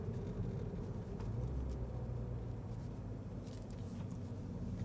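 A MINI Cooper S accelerating in sport mode, a low, steady engine and road drone heard from inside the cabin, fairly subdued and even throughout.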